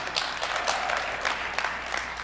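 Scattered applause from an audience at a talk on faith, race and gender, a soft, fairly thin patter of clapping heard at a distance for a couple of seconds.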